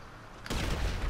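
A grenade launcher blast in GTA 5 Online hits as a sudden loud explosion after a quiet moment, then rolls into a dense, sustained roar of debris and rumble.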